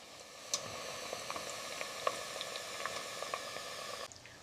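Potato fries on their second fry in hot oil, giving a steady, fairly faint crackling sizzle with scattered sharper pops, continuous with no talking.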